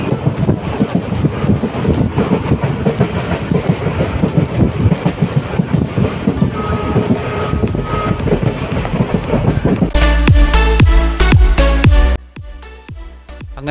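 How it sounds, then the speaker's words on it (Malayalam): Express train running at speed on the Kollam–Chenkotta railway line after Punalur, a loud continuous rumble and rattle with wind buffeting, turning to sharper clanking and then quieter rolling near the end. "പുനലൂർ സ്റ്റേഷൻ കഴിഞ്ഞതോടെ ട്രെയിനിൻ്റെ സ്പീഡ് കൂടി അക്ഷരാർത്ഥത്തിൽ എക്സ്പ്രസ് ട്രെയിനായി മാറി."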